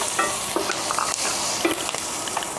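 Sliced green chillies and onion being stirred in a hot oiled frying pan, a close crackling sizzle broken by quick scraping spoon strokes, with no voices over it.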